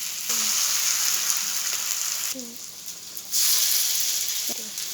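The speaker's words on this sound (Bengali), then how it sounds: "গাঁদা ফুলের পাতাগুলিকে এভাবে ব্যাটারে ডুবিয়ে ভেজে নিচ্ছি" Marigold leaves dipped in batter fry in hot oil, a dense steady bubbling hiss that dips briefly then surges back louder as more pieces go in, with a few faint clinks; heard close with no talking.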